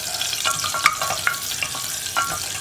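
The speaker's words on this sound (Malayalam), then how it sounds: "കുക്കറിലേക്ക് നമ്മൾ കട്ട് ചെയ്ത് വെച്ചിരിക്കുന്ന ഇഞ്ചി ആദ്യം ചേർക്കാം." Cut ginger frying in oil inside a pressure cooker while being stirred, a continuous close sizzle with light spoon scrapes against the metal pot throughout.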